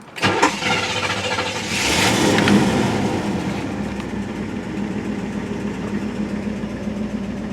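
A 1967 Cadillac Eldorado barn find with 44,029 miles cranks briefly, fires up with a loud surge, then settles into a steady, rough idle, close by.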